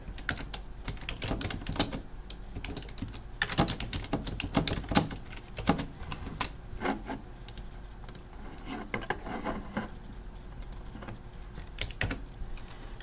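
Numbers typed on a computer keyboard, close and crisp, with bursts of rapid key taps separated by short pauses and a few heavier key thunks.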